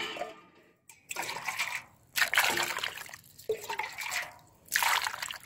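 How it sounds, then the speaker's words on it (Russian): Cold water poured over boiled beets in a pot comes in three separate gushing, splashing pours with short gaps between them, close and moderately quiet. "И быстро наливаем холодной водой."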